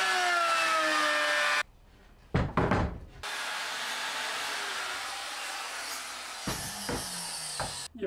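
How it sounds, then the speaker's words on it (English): A wood router spins at high speed while cutting a shelf for a repurposed hat rack, a loud whining drone that drops out, returns after a couple of knocks and runs on steadily. "You probably shouldn't set your router down while it's still spinning."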